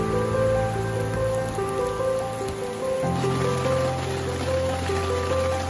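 Heavy rain pours steadily on a riverside camping shelter, a dense continuous wash of drops with sustained tonal hum layered underneath throughout.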